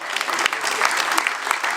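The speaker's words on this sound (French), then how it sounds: "on peut l'applaudir" Audience applause at a Téléthon charity event in the Vienne, a steady dense patter of many clapping hands filling the room without pause.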